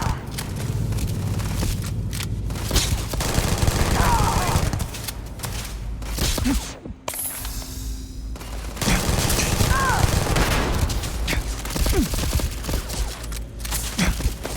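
Repeated gunfire bursts from the Starfield video game come in rapid volleys across the clip, loud and dense, with a voice talking over the shooting.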